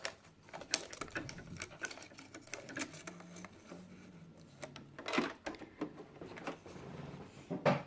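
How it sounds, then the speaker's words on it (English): A sewing machine stitching a gathered paper ruffle for a junk journal, heard as quiet, uneven bursts of rapid mechanical clatter with short pauses between runs of stitches. "And then you just put it under the sewing machine."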